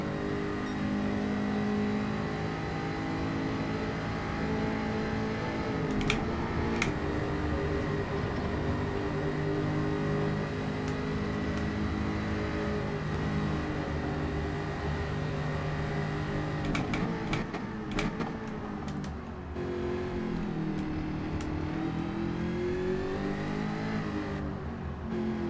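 Group 4 race car engine in Gran Turismo 7 during an online lobby race, a continuous droning engine note with shifting pitch as the car accelerates and changes gear, steady and loud throughout.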